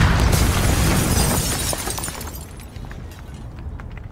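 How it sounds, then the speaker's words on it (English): A frag grenade explodes in the video game Mafia 1 during a shootout, a loud broadband burst that fills the opening and then decays into a rumbling, crackling tail. "Smoke them out, Joe. Frag"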